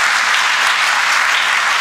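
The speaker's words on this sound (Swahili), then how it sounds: "anakata utepe makofi mengi." A dense, loud crowd applauds without pause at a ribbon cutting launching electronic visa and residence permit services, with steady clapping and no voices.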